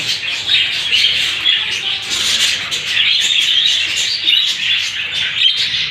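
Dense, continuous high-pitched peeping and cheeping from a nest of four newly hatched bird chicks, close and loud, with no talk over it.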